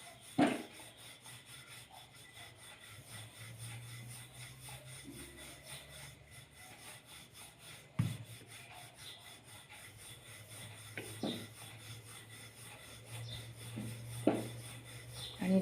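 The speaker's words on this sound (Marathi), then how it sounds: "आता याची पोळी लाटून घेत आहे" A rolling pin rolls out cashew shankarpali dough on a board, soft repeated rubbing and rolling strokes, quiet and close, with a few light knocks of wood and no talking.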